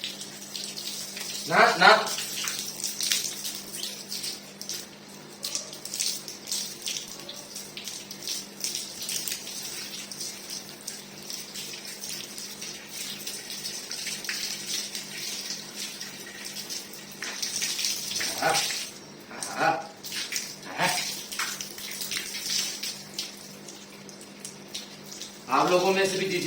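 Water splashes steadily over a sacrificial bull being bathed to cool it down, a continuous hiss with a few louder gushes, while people talk intermittently nearby.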